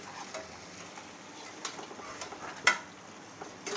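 Chicken pieces stirred in a hot pan while cooking restaurant-style Chicken 555, soft scraping and light sizzling with occasional sharp spatula taps against the pan, close and fairly quiet.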